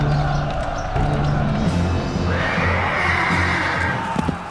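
Horses neigh in a dramatized Roman battle scene where auxiliaries kill barbarian horses, a loud whinny rising over a dense bed of rumble and noise.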